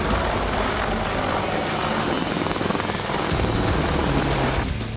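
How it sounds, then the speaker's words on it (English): An Apache helicopter flying aerial display maneuvers at the Singapore Airshow gives off a loud, continuous rotor and engine roar that holds steady throughout, with no talk. "They'll be performing more than 10 maneuvers in the helicopter during their aerial display"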